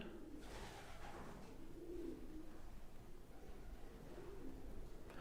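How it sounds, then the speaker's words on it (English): Pigeons coo softly in low, throaty bursts, a little distant, over a steady background hiss. "the pigeons because I know they're making a lot of noise up there"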